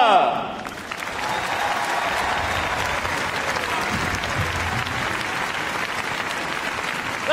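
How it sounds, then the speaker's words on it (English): Large arena crowd at the Crufts dog show cheering and applauding an RAF police dog agility display, a loud sustained roar of clapping and shouts that fills the hall, with an announcer's voice briefly at the start. "Let's have a final big cheer for our last line of agility"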